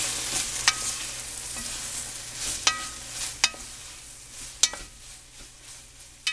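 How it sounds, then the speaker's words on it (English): A venison fajita mixture with garlic sizzles in a frying pan while a utensil stirs it, with sharp scraping clicks against the pan over a constant frying hiss. "Stir everything around."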